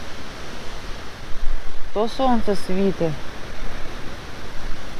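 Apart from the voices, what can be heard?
wind and rain outdoors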